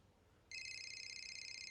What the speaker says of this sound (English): Is that my phone ringing?